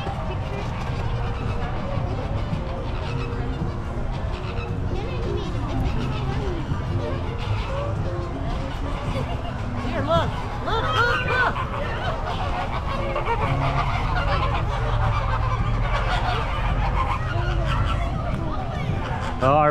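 Geese and other fowl honk and call loudly and continuously in a crowded state fair poultry barn, layered over steady crowd babble and people talking.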